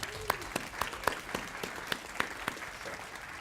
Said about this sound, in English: I'd like you to give a round of applause to the scholarship donors today.